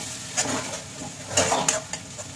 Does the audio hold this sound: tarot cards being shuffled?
no